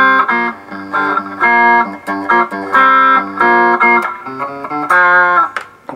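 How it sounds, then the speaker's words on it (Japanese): A lively guitar line of clipped, rapid notes filtered through a Strymon TimeLine delay pedal's tinny, narrow plastic cheerleader megaphone simulation, steady and loud with no voices. "チアリーダー用のなんかプラスチックメガホンだったんですけど"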